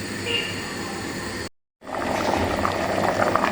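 Fava beans boiling with greens for bessara make a steady bubbling, hissing simmer close by, broken by a brief moment of silence before the rough, lively boiling resumes.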